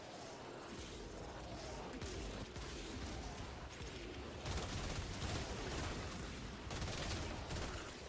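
Artillery fires in a video game as a steady, dense barrage of distant gunfire and rumbling blasts, fairly quiet throughout.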